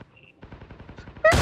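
A rapid burst of automatic machine-gun fire in a shooter video game using an EM2 rifle, a steady rattle of close shots ending in a louder blast.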